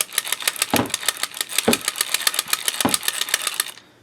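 A small pumpkin-shaped knitting machine being cranked gives a fast, continuous rattling whir of plastic clicks, close and fairly loud, with a few heavier knocks spaced through it before it stops.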